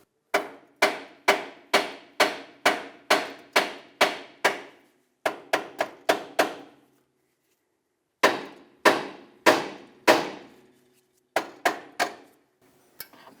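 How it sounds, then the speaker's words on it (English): Hammer tapping the side of the steering knuckle on a 2008-2012 Honda Accord to free the tie rod, a rapid series of sharp metallic knocks in bursts, a pause, then more strikes. "Now use a hammer, tap the side of the knuckle."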